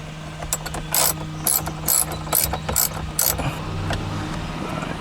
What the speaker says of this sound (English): we're gonna put our bolts back on